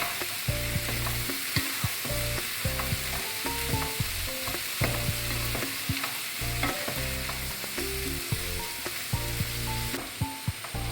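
Butter chicken masala with tomatoes sautés in a pan, a spoon scraping and stirring in a rapid, uneven rhythm over a constant close sizzle, with no talking.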